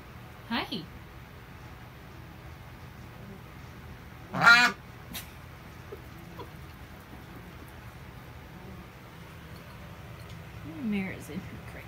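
A few scattered duck quacks, short and separated by quiet gaps, with a louder burst in the middle and soft background noise.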